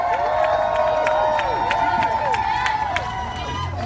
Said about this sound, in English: so let's give them a big old applause, all right?